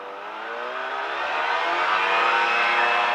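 A light aircraft engine runs up toward takeoff RPM, a loud, close, steady droning roar that rises gradually in pitch and intensity without a break.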